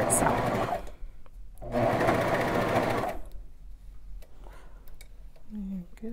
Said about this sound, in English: and we'll start sewing.